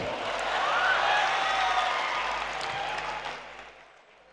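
A mushaira audience in Hyderabad applauds a poet with dense, sustained clapping from a large crowd. It swells, holds steady, then fades out toward the end.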